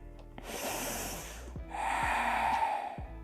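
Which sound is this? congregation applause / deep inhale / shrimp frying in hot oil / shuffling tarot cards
deep inhale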